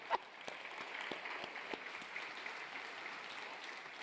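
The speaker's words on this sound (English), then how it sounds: "Let's keep the applause going as he comes to the stage." An audience at a Youth Assembly opening ceremony applauds steadily as a Lao minister of agriculture and forestry walks to the stage, with dense, even clapping and a few sharper claps standing out.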